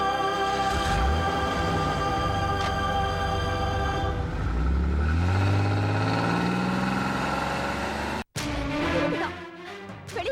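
A car engine idles and then pulls away, its pitch rising as it accelerates off, steady and fairly close, ending in a brief cut.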